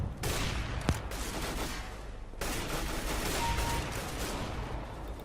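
A burst of gunfire from Counter-Strike: Global Offensive rattles on as dense, rapid shots with a sharp crack near the start, all over a loud, busy game background.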